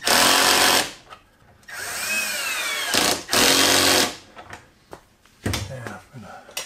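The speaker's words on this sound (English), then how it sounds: "I've got self-drilling screws or self-tapping screws." A power drill drives self-drilling screws into plywood while a shooting board is built. There are loud, sustained whining runs with a speed sweep, then a short burst after a pause, with clicks and handling noise between them.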